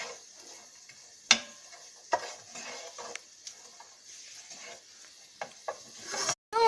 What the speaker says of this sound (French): on remue un peu avec une cuillère en bois